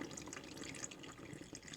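Hot water runs steadily through a tie-dyed shirt during hot water irrigation dyeing, a continuous close splashing and trickling flow with no pauses.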